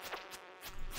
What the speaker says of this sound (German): Eine Mücke.